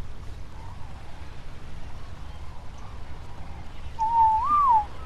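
A short rising-and-falling whistle command in ARK: Survival Evolved sounds near the end, clear and fairly loud over a low steady background rumble.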